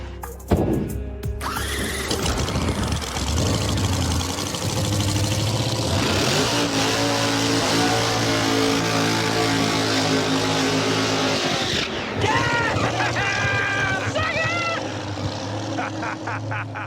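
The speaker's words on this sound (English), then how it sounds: "We just did our first test burnout." Drag car doing a test burnout on a track, a loud continuous engine roar with revving and tire squeal across most of the stretch, ending in a few shorter engine blips.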